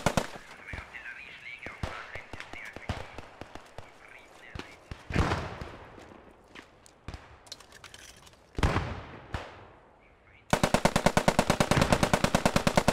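Machine gun fire in a WWII video game set at Utah Beach, Operation Overlord, with scattered bursts and single shots, louder clusters midway, then a sustained rapid close burst at the end.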